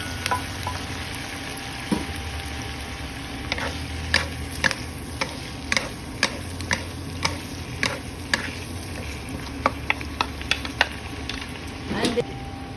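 Mushrooms go into a pan with bacon for a creamy mushroom bacon dish, giving a soft continuous sizzle under a string of sharp utensil clicks and scrapes against the pan from stirring.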